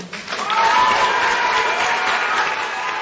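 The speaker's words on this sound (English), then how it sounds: "A round of applause for Barry." A studio audience applauds a contestant on a televised talent show, the clapping swelling quickly after a brief pause and staying full and even to the end.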